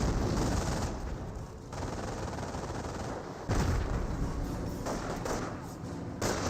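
A mortar barrage firing in Company of Heroes: dense, loud rumbling bursts of gunfire and blasts fill the whole stretch, with sharp new impacts around the middle and near the end.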